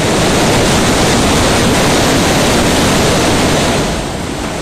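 Roaring torrent of water rushing down from the mountains, a loud, continuous broadband rush with no break, easing slightly toward the end.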